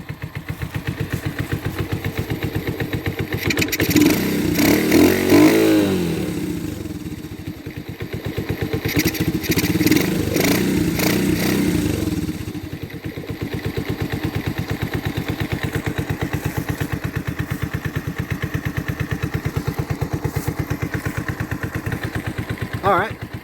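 A 1984 Honda ATC 125 three-wheeler engine with a swapped carburetor idles steadily and close by, with a clattery, slightly uneven rhythm, and a brief revving swell partway through.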